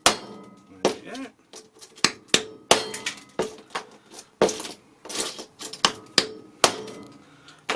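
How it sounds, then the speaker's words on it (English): Scored glass for a segmented pattern bar is struck from above along the score line, giving a series of sharp, close tapping knocks and clinks at irregular intervals, some louder than others, with no talk. "All you want to do is hit it above the crack, or above the score line."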